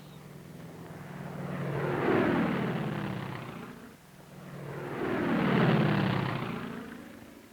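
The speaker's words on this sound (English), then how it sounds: "The insecticide is then sprayed over the area by planes flying just above the treetops." Two low-flying crop-spraying airplanes pass just above treetops one after another, spraying insecticide, each engine roar swelling to a peak then fading, with a Doppler sweep as it goes by.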